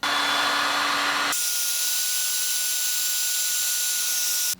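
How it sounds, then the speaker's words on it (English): A heat gun blows steadily on heat shrink tubing over a soldered wire: a loud, continuous hissing rush with a faint tonal whine, changing pitch once early on and running alone until it cuts off. "now I'm going to put some heat shrink on there"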